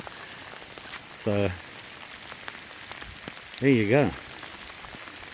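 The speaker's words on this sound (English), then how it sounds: "And it's raining really bad." Heavy rain falls steadily during a wet, windy overnight hammock camp, a constant close hiss and patter throughout, with someone briefly speaking over it twice.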